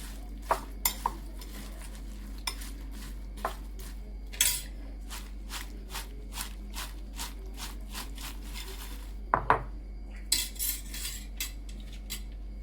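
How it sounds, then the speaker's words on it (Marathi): Crispy fried corn tossed and mixed in a pan, a series of sharp dry rattling scrapes and clinks of a utensil against metal in quick bursts, with brief pauses and a low steady hum behind. "आवाजावरूनच लक्षात येत असतील की किती छान क्रिस्पी झालेत आपले कॉर्न"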